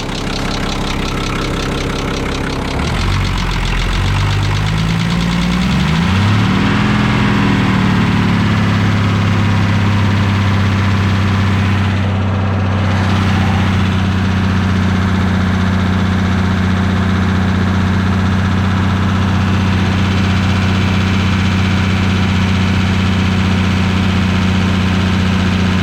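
Car engine raised and held at a steady 2500 RPM during an alternator test: a brief rev climb, then a loud, constant drone that holds for a long stretch close up.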